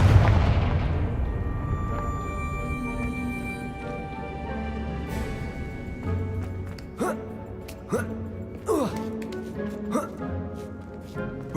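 A fire spell explosion in Hogwarts Legacy opens with a heavy blast that decays slowly into ringing tones, followed later by a series of sharper cracks and impacts at moderate volume.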